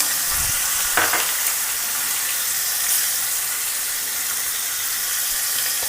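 Chopped green chili hisses in hot oil tempered with mustard seeds, asafoetida and curry leaves for nylon khaman, a steady bright sizzle with a couple of brief utensil clinks near the start.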